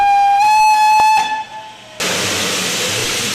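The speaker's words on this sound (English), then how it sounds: "The whistles blow and we're off up the line." A steam locomotive whistle blows a steady, bright harmonic tone for about a second, then gives way to a loud, continuous hiss of escaping steam as the train departs.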